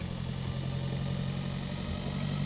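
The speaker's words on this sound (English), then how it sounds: "Let's see if our medium tractor is actually going to be able to handle this thing." A medium tractor engine runs in Pure Farming 2018 with a steady, even mid-pitched drone and a low throbbing hum, constant and close throughout with no talking.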